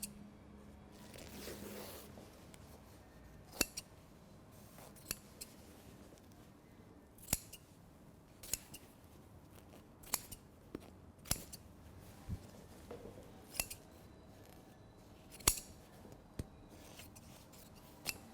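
Scissors snip through a suit jacket's fabric in sharp, isolated cuts spaced a second or two apart, close and quiet with a faint rustle of cloth between.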